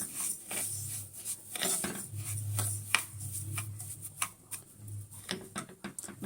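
A spoon clinks and scrapes in a pot, stirring a vermicelli dessert mixture with vanilla, with soft irregular taps and rubs close up.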